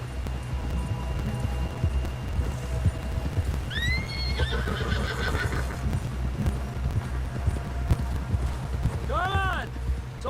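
Horse in Red Dead Redemption 2 galloping with steady clip-clop hoofbeats throughout, letting out two shrill neighs midway and near the end, close and loud, with voices talking underneath.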